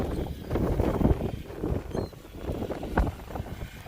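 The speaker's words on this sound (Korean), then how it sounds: "바람 많이 분다" Strong winter wind buffeting a fishing boat at sea off Tongyeong, a steady roaring rush with gusting swells and occasional thumps, loud and close to the microphone.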